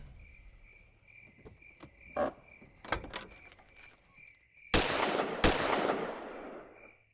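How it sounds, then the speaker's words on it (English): Two loud .45 pistol shots ring out in an old-time radio drama near a ranch at night, each a sharp crack with a long fading tail, following a few softer knocks over a steady chirp of crickets. "Those were shots. Sounded like a 45."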